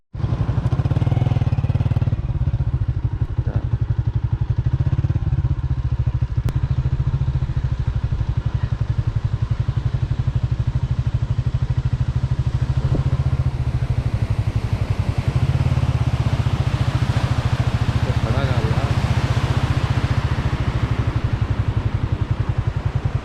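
A Honda 125 motorcycle engine runs steadily during tuning and servicing, a loud close-up single-cylinder putter with a constant low throb and slight shifts in pitch, alone with no talk.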